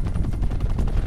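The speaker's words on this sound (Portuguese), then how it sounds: "Helicóptero inimigo." Enemy helicopter in Call of Duty Black Ops 4 thumps steadily through a short, loud burst, mixed with rapid gunfire in a busy in-game firefight.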